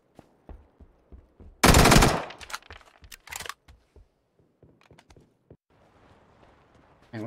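Gunfire in the battle royale game PUBG: a sharp, dense burst of automatic shots near the start, then scattered single shots and thuds, loud and close, with no talking.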